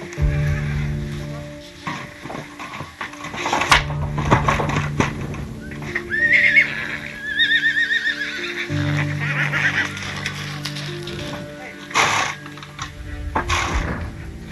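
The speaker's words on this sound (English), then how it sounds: "This causes a mare to panic in the restraint box." A mare whinnies and neighs in panic inside a blood-extraction restraint box on an Icelandic blood farm, with several loud, shrill calls and snorts near by amid clattering and movement.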